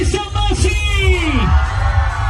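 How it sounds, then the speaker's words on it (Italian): Carnival crowd from Samassi at the Sangavinese carnival letting out a loud collective yell, dense and sustained, with a single voice whooping and gliding downward above the roar. "Vogliamo sentire l'urlo di Samassi."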